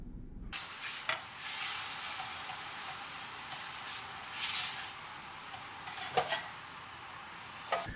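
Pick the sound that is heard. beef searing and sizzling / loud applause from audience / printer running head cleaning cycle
beef searing and sizzling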